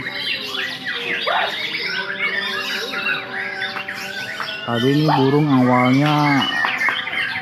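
A murai (white-rumped shama) in breeding condition at its hanging post calls loudly in sharp, varied whistles and squawks, ending in a long, strong call, with a voice talking briefly underneath.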